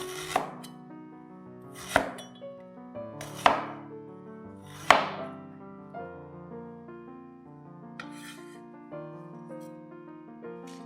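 A knife slicing ginger on a cutting board gives about four crisp, evenly spaced chops roughly a second and a half apart, near and clear over a steady musical backdrop, with no speech.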